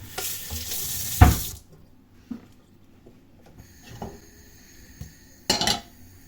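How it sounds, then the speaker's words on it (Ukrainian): Thawed, lightly squeezed spinach with finely chopped garlic goes into a frying pan: a loud sizzling burst and metallic clatter at first, then quiet, sparse scraping and clinks, and a short second sizzle near the end. "На пательню додала шпинат розморожений, трошечки віджатий"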